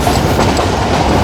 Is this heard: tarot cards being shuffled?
no